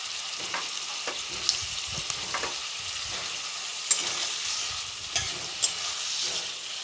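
Chopped tomatoes with salt, turmeric and capsicum sizzle in a frying pan for pasta, a steady close hiss broken by the scrape and clack of a spoon stirring.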